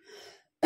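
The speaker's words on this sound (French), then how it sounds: "je tousse toujours" A single sharp cough comes at the very end, loud and close. It follows a faint murmur and a brief silence.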